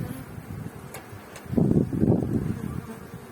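Honeybees buzz during a beehive inspection, a low droning swarm that swells louder in the second half, close by with no voices.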